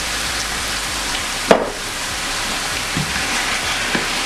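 Red and yellow peppers sizzle steadily in a pan while being cooked for an oxtail stew, with a soft continuous hiss broken by one sharp clink and a few faint taps.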